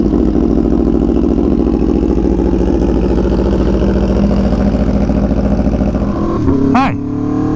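Aprilia Tuono V4 1100 Factory motorcycle engine idling with a steady, loud rumble close by, then a brief rev rising sharply near the end before the sound drops off.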